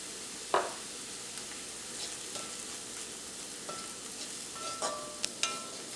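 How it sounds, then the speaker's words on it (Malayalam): Coriander powder frying in hot oil gives a soft, steady sizzle with a few light stirring scrapes and clinks, close and fairly quiet, with no talk. "അപ്പോൾ മല്ലിപ്പൊടി എണ്ണയിൽ കിടന്ന് നന്നായിട്ട് മുരിഞ്ഞിട്ടുണ്ട്"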